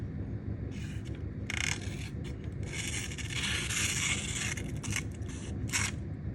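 A MicroTech UTX-85 knife with a stonewashed CPM MagnaCut double-edged blade slices through a small piece of paper in a sharpness test, giving close, crisp rasping cuts in several short bursts with no talking.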